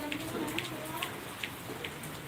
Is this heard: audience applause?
no